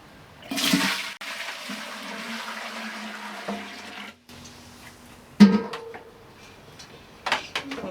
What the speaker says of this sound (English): So I'm going to add our color water